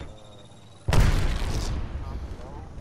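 A grenade detonates in the video game Apex Legends: one sudden loud blast that cuts in sharply and rumbles off over about two seconds.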